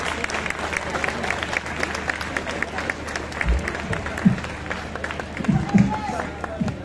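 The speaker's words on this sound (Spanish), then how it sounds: "¡Un aplauso para mi abuela!" Audience applause at a village festival in Guadramiro, a crowd clapping in a moderate, slightly uneven patter with some background chatter and voices.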